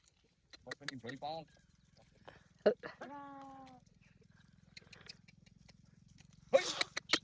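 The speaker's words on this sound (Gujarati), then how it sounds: "અચ્છા બકરી આવે પીવા" A goat gives a drawn-out, quavering bleat in an otherwise quiet setting, with a low steady hum underneath and short bursts of voice and handling noise before and after it.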